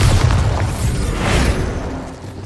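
A Bombarda spell explodes in Hogwarts Legacy, a loud booming detonation with a deep rumble and a second swelling crackle before it fades out.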